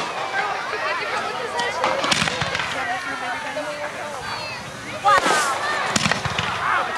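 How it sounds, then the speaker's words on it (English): Fourth of July fireworks display in La Palma, California, 1988: sharp bangs and crackling bursts over a crowd's murmur, with people talking nearby throughout. "This is a fireworks display in La Palma, California on July 4th, 1988."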